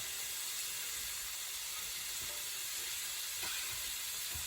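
Garlic sizzles in a hot pan at the start of a shrimp and mixed vegetable stir-fry, a steady broadband hiss with a few faint ticks and pops and no talking.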